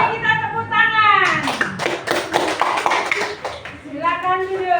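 Schoolchildren in a classroom clapping together after group presentations: a brief burst of rhythmic claps in the middle, with talking before and after.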